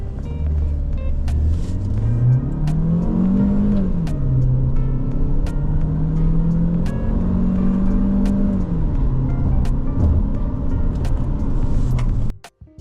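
A 2023 Jetour Dashing car pulling away from a stop, a steady engine and road hum inside the cabin with rising and falling tones as it gains speed, continuous and fairly loud.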